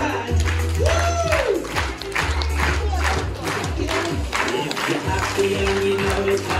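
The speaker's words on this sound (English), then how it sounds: "Okay, everybody clap your hands." A group on a farm outing claps hands together in loose rhythm, with lively shouting and sung voices mixed over the steady clapping.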